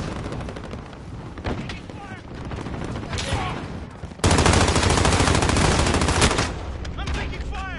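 Automatic gunfire rattles through a video game firefight, scattered shots giving way halfway through to a loud sustained burst of rapid fire, with voices calling out over the action.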